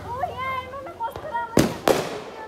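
Two loud, close Diwali firecracker bangs burst in quick succession, sounding over people talking and chattering in the background.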